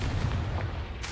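Confringo fire spell exploding in the Hogwarts Legacy game, a deep rumbling boom with a broad roaring burst that holds steady for about a second, loud and close, no voices.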